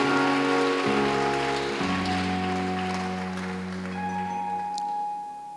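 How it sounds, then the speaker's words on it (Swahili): Crowd applause at a Tanzanian regional election gathering, a steady hiss of many hands clapping over sustained keyboard or organ chords, fairly loud and gradually fading toward the end. "Hebu tuongeze makofi"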